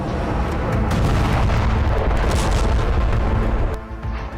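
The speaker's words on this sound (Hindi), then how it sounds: "के अंधेरे में एक के बाद एक 2 मिसाइलें दागी गई" Two missiles launched at night, a loud continuous roaring rumble of rocket fire with booming bursts that holds steady, then tapers off near the end.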